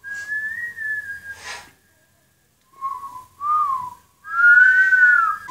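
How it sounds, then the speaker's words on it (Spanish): A whistled melody opens a music video, a clear, bright tune in short sliding phrases with a pause partway through. It is loud and close, with no talk over it. "Lo que vimos en el teaser, el chiflido. Ese chiflidito me recuerda a los juegos del hambre."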